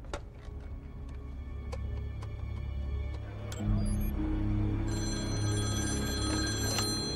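Telephone bell ringing repeatedly in a tense standoff scene, a steady electronic ring cycling over a low humming background that swells partway through.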